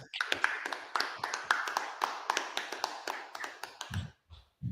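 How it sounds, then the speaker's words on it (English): A single person clapping hands in a steady rhythmic beat, sharp close claps repeated a dozen or more times at a moderate pace, ending with a brief pause, set in a quiet room at a street-preaching gathering. "I clap it up."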